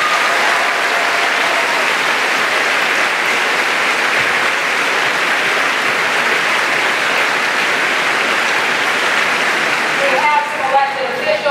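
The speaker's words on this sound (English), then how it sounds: "So I would like us all to give a big round of applause" An audience at a Hamilton College event gives a big round of applause, a dense, loud, sustained clapping that fills the whole stretch before easing off near the end.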